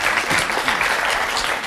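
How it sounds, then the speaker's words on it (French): A studio audience gives a short round of applause, a dense patter of many hands clapping at once, close and fairly loud, holding steady and fading slightly at the end. "je crois qu'on peut l'applaudir"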